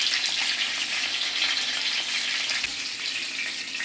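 Fish heads fry in hot oil with a dense, continuous sizzle that stays loud and steady throughout, with only faint stirring underneath.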